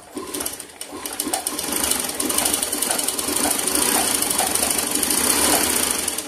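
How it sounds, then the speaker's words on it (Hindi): A sewing machine runs steadily after its shuttle has been set, a loud, close, fast rhythmic mechanical clatter and whir that keeps an even pace throughout without talk. "अब हमारी मशीन बिल्कुल हल्की हो गई है और बिल्कुल अच्छे से चल रही है।"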